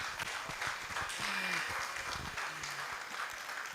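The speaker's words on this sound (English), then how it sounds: "A round of applause for him one more time." Faint, steady applause from the audience at a product launch event for farming platforms runs through the whole stretch. It sounds distant and even, with a few low tonal sounds underneath.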